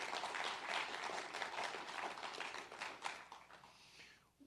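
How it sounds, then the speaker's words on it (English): Audience applause at an academic symposium's opening session, a dense, sustained wash of many hands clapping that tapers off toward the end, with no voices over it. "now it's my turn to say, what you should do is applaud Raj and thank him for all of the work he did"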